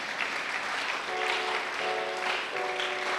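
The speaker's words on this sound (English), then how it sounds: "Clap for Jesus." A church congregation claps for Jesus, a dense, sustained wash of many hands applauding together throughout, with a brief organ or keyboard chord sounding underneath.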